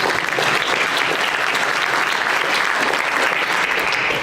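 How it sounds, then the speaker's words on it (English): Steady, dense applause from a large audience at a Reno forum on development and growth, held at the Atlantis, fills the room at constant loudness without letting up. "so a round of applause for him"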